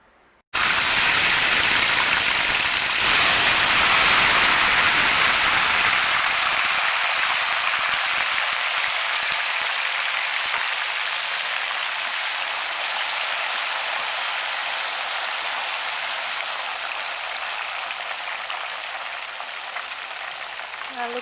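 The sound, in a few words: salted fish frying in hot oil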